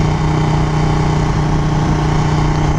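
A Ducati Panigale 1299 motorcycle engine idles loud and close in a steady, even rumble that runs throughout with no pauses.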